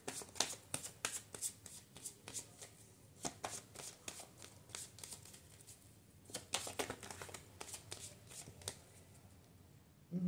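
Tarot cards are shuffled by hand, giving soft, quick papery riffles and flicks that repeat steadily at close range and low volume, with almost no talk.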